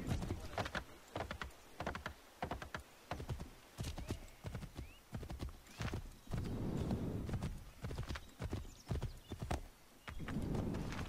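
Hooves of a stolen horse clip-clop steadily at a gallop in Assassin's Creed III, with a whinny breaking through, close and fairly loud throughout.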